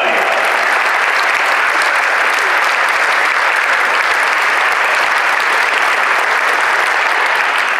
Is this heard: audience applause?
yes